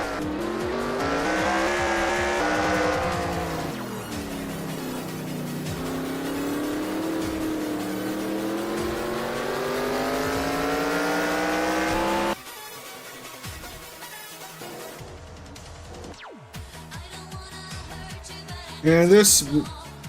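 Race cars in NASCAR Racing 2003 slowing through a hairpin and accelerating away, a loud sustained engine roar rising and falling in pitch, then quieter passes with tire squeal near the end.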